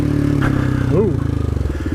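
A side-by-side off-road vehicle with a failing clutch gives a loud, close engine drone with a rhythmic pulsing clatter. Someone speaks or exclaims briefly over the engine.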